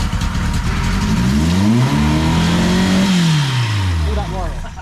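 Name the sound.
Austin Ten Special engine revving with throttle stuck open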